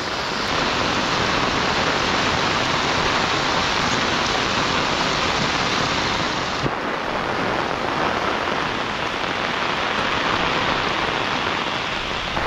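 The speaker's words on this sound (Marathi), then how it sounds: "आज खूपच पाऊस आहे" Heavy monsoon rain pours down in a dense, loud, unbroken roar with no pauses or other sounds.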